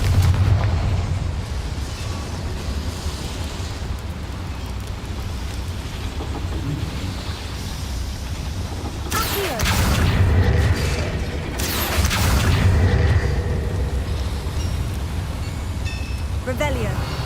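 A Confringo spell blast in Hogwarts Legacy goes off inside a boiler-filled building, a loud rumbling eruption that swells twice over a dense, roaring game soundscape.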